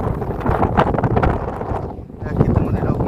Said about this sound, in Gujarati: વરસાદના વાતાવરણમાં પવન પણ જોરદાર ફૂંકારા મિત્રો ચાલુ છે